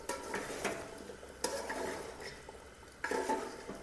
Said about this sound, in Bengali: আলু দিয়ে নেড়ে নিচ্ছি।